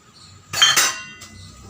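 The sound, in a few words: washing dishes, clinking utensils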